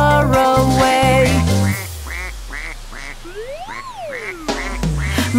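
Cartoon duck quacks in a children's nursery song, a run of bright, loud, evenly spaced quacks with one long rising-and-falling squawk, set over a bouncy musical backing that drops out partway before returning.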